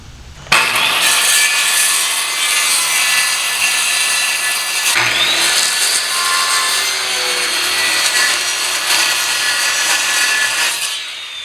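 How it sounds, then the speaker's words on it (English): A power saw cuts through a sheet of plywood, a loud, continuous close-up whine with grinding wood noise and a brief dip midway as the cut continues, with no one talking. "we're going to go ahead and cut a piece of plywood that is an inch bigger than that in each direction"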